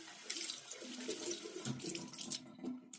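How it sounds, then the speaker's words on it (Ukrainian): Tap water runs and splashes steadily as cleanser is rinsed off a face, a close continuous sink wash with small irregular splashing bursts. "Виполіскуємо засіб водичкою"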